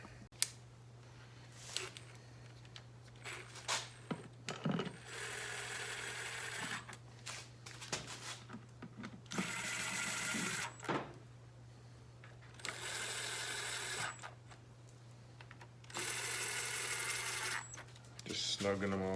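A socket ratchet snugging bolts on the clutch of a 1985 Harley-Davidson FXRS Evo gives several bursts of rapid, close clicking, each lasting one to two seconds, over a constant low hum.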